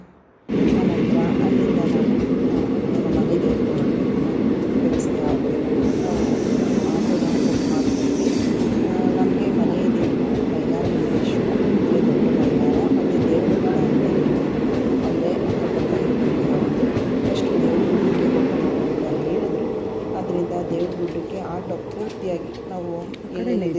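A train rumbles steadily nearby at Ranebennur railway station, a continuous heavy roar with rattling wheels on track, and a brief high whistle-like tone rising early on.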